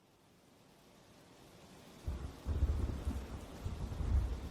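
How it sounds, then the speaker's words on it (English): A thunderstorm builds from a quiet hiss into steady rain with low rumbling thunder rolling in from about halfway, growing heavier and louder toward the end, with no voices. "The storm continued to move in as George and his team began their journey."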